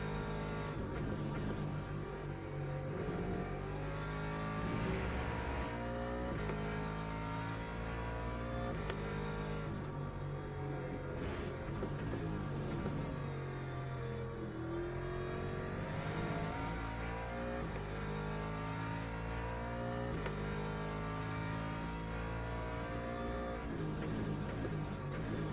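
A McLaren race car laps Imola in Le Mans Ultimate, its engine droning loud and continuous with rising and falling revs through gear shifts and corners, sustained throughout with no voices.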